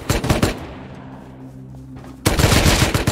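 Loud gunfire in Rust comes in a quick burst of sharp shots, then a short lull with a low hum, then another rapid string of shots close by.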